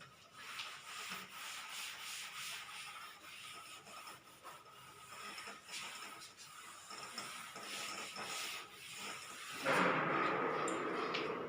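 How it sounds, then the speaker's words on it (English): A duster rubs out writing on a board in a computer class, making a steady, scratchy rubbing with a continuous hiss that grows louder near the end. Nobody speaks. "I'm going to rub this"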